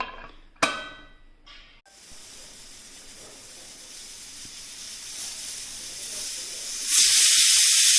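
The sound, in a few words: pressure cooker whistling and hissing steam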